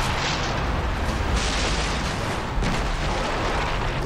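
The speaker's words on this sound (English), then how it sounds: "Did you see that explosion?" A loud explosion in the video game Far Cry 3 during a prison break, with heavy rumbling bursts and crashing debris that roll on continuously and stay loud throughout.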